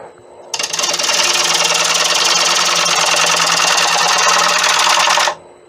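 Negative rake scraper cutting the outside edge of a 17-inch dry acacia bowl on a wood lathe: a loud, steady chattering scrape that starts abruptly, holds evenly for about five seconds, then cuts off.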